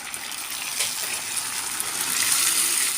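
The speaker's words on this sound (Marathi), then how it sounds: "अर्ध्या वाटीलाही कमी एवढं पाणी टाकते यात" Water poured into jaggery in a pan to melt it into syrup for soft sesame and peanut chikki, a steady close gushing pour that swells toward the end, with no talk.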